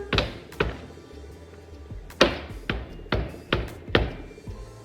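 A tray of piped macarons banged down on a kitchen counter, giving a run of about eight sharp, close thuds at uneven intervals, with no talking.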